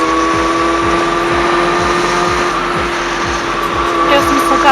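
A Kawasaki Ninja ZX-636 motorcycle cruising through city traffic, its engine a loud, steady drone with rhythmic pulsing and wind rush, heard up close from the rider's position.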